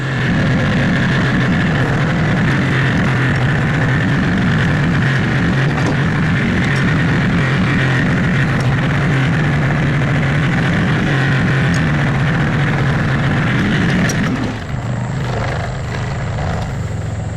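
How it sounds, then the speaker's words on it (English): A tractor engine runs steadily at a constant idle for most of the stretch, a loud continuous low drone that drops off near the end, outdoors at a felled tree. "I think I'm gonna have to use the tractor."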